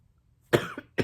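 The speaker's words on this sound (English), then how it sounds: "Because it has me coughing." A person coughs two or three times in quick succession. The coughs are close and sharp, with a short gap between them.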